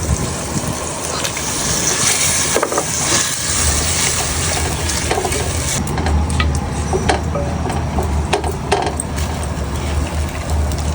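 Chicken frying in spiced oil in a clay pot, loud continuous bubbling and sizzle with scraping and clatter of a spoon stirring, close up.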